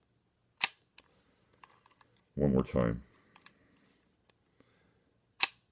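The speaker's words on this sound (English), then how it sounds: "Just a silky smooth sounding shutter." A red-dial Leica IIIf camera shutter fires at 1/1000 second, giving sharp, isolated clicks in a quiet room, with someone speaking briefly between the shots.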